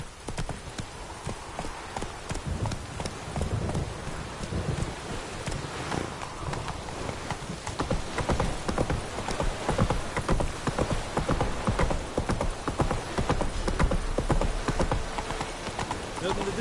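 Roach the horse gallops through rain in The Witcher 3, with steady clip-clop hoofbeats over a constant hiss of rainfall and light wind, and a voice speaking briefly over the riding.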